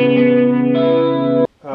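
Electric guitar chord played through a Small Clone chorus pedal, a loud sustained shimmering tone held for over a second before cutting off abruptly, then a faint new note.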